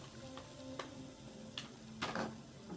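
Shrimp go into a pan of melted bacon grease and fry with a soft, steady sizzle, marked by a few brief clinks and stirring scrapes close by.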